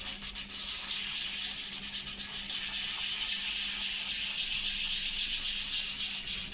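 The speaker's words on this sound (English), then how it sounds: "use 320 grit sandpaper and sand it like this to make your surface look more smoother and shinier" Fine 320-grit sandpaper rubbed steadily over a balsa wood static model of a Tejas jet, a continuous close, hissy scratching that holds level throughout with no voices.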